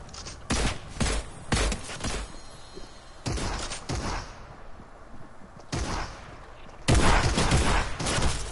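Fortnite gunfire crackles in repeated bursts and single shots across a noisy in-game battle, loud and close, with short lulls between volleys.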